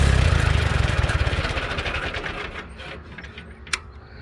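A small engine fitted with a Chinese carburetor runs loud and close with a fast, even chugging that fades and settles lower, ending with a sharp click.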